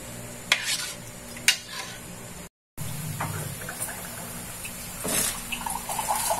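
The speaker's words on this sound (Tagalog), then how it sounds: "Ayan, pakuluin lang natin ito." Metal utensil knocks against a pot a few times, then a soft bubbling simmer and light stirring of miso sinigang fish soup, close up with no voices.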